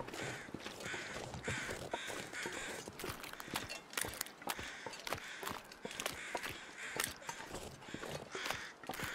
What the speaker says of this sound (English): I'm gonna check out all the crows too.